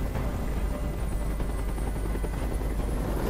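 Helicopter hovering overhead in the Detroit: Become Human video game, a steady, loud rotor drone with dense broadband chop that holds unchanged for a few seconds with no voices.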